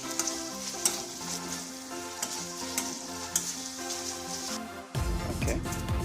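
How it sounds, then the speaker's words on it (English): Bhringaraj herbal oil bubbles and sizzles steadily in a frying pan, with scraping stir strokes over the continuous frying noise and a louder burst of sizzle near the end. "Don't forget to stir for the next 20 minutes."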